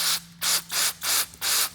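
Four short, sharp bursts of aerosol carburetor cleaner hiss close up in a quick, even rhythm, sprayed into a snowblower carburetor part, separated by brief pauses over a faint hum.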